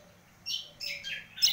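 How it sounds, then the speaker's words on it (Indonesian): A cucak kombo (kecial kombo) chick gives three short, high chirping bursts, close and fairly clear, separated by brief pauses over faint background hiss. "Inilah tutorial untuk meloloh anakan dari cucak combo alias kecial combo."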